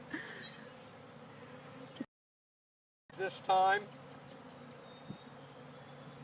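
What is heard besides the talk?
honey bees buzzing around beekeeper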